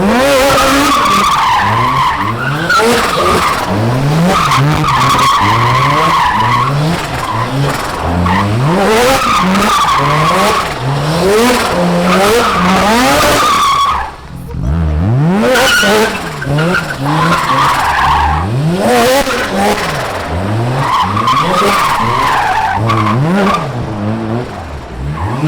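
A loud Mazda RX-7 FD rotary engine screams and revs up close while drifting, tires skidding and squealing almost continuously, with a brief lull midway before it picks back up.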